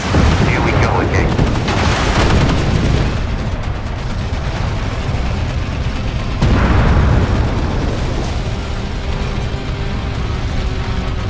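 In the tank combat game Armored Warfare, a loud rumbling explosive tremor roars up in two heavy surges of deep, crackling boom that stay strong throughout.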